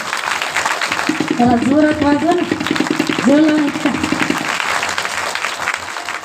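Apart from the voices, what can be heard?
audience applause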